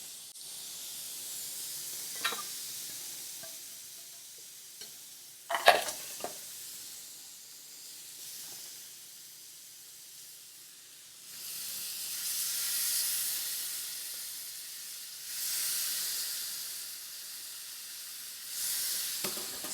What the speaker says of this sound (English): we're just going to throw that on the grill